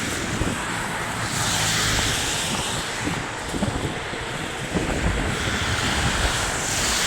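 Strong wind buffets the microphone outdoors, a loud continuous roar with gusty surges and rumbling bursts throughout, with no talking.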